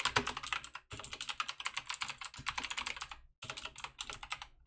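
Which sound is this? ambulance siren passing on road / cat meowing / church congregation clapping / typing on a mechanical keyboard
typing on a mechanical keyboard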